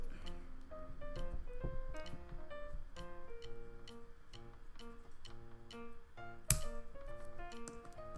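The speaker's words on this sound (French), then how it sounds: "je vais couper chaque cœur en deux" Scissors snip through paper hearts for a scrapbooking project, a series of sharp, close clicks and crisp cuts in an irregular rhythm, with faint background tones and one louder snap near the end.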